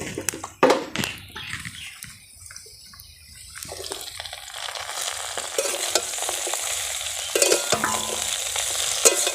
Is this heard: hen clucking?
no